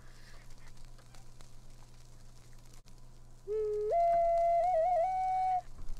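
A clear, sustained whistle in The Sims Medieval calls a bird, rising in steps and then warbling for about two seconds over a quiet game background hum.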